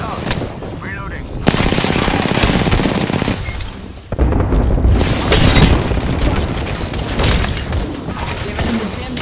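Rapid gunfire and blasts from a video game firefight, with dense automatic bursts and booming impacts running nearly continuously and loudly throughout, a sharp louder burst near the middle.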